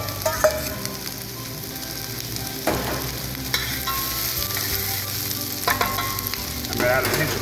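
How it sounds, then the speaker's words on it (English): Onions sizzle and crackle in hot oil in a pan, a steady loud fry across the whole stretch, broken by occasional stirring scrapes and clinks, with no talking. "Once we got it well heated up, we're gonna add our onions."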